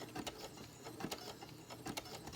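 A sewing machine back-stitches over a pipe cleaner on a fabric face mask, giving quick, soft mechanical whirs in short rhythmic bursts, close but quiet.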